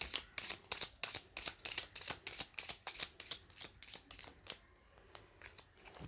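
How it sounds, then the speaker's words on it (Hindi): An oracle card deck is riffled and shuffled by hand, a quick run of crisp, evenly spaced flicks and slaps that slows and stops near the end, close and fairly quiet. "जो प्रिज्म मेरा डेक है उससे मैं पहले कार्ड्स लूँगी"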